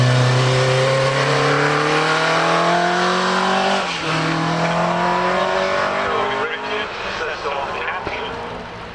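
A Chevron B19 race car screams up a hillclimb course, its engine loud and rising through gears with a brief dip at a shift, then fading as it moves off, with people talking over it.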